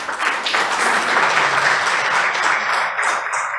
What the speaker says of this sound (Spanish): Vamos a recibirlos con un fuerte aplauso a cada uno de los 4